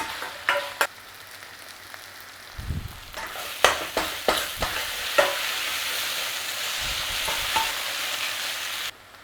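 Food sizzles steadily in a hot pan while a utensil scrapes and clacks against the metal in irregular strokes, close and fairly loud.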